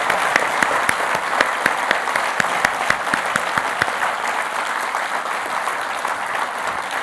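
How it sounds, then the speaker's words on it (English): An audience at a public-space event applauds a panel, loud continuous clapping with sharp individual claps standing out, sustained throughout. "Let's have a huge round of applause for our panel."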